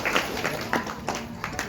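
Audience applause at a Datta Jayanti Gurucharitra Parayan closing ceremony: a steady wash of broadband clapping with scattered sharper claps throughout, moderately loud and fairly close.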